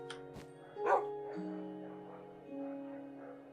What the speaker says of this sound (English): It's dogs barking at each other.